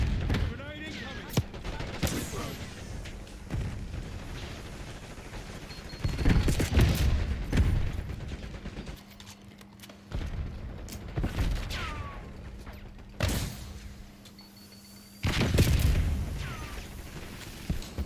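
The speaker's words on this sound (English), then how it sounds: "Grenade incoming." A grenade goes off amid a firefight in Call of Duty Black Ops 6, with several loud booming blasts and bursts of gunfire spread through the passage, and a voice talking over the action.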